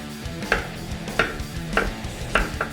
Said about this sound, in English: Start dicing the potatoes.